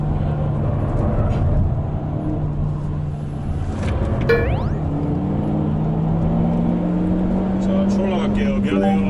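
A new JS-generation Hyundai Veloster Turbo engine drones loudly inside the car on a racing circuit, its tone climbing steadily as the car accelerates down a straight.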